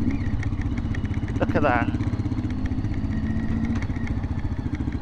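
Two motorbikes idle together on a New Forest road near Calshot Castle, a steady low rumbling chug throughout, close and loud, with a brief higher engine rev partway and people talking over it.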